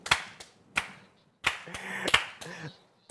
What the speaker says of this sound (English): As I clap for you